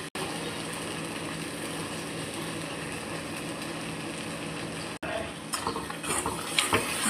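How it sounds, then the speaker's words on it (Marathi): Homemade strawberry jam is stirred in a pan, giving a continuous bubbling sizzle that breaks off and returns with louder scraping and clinks of the spoon near the end. "असं मिक्स करत राहायचं"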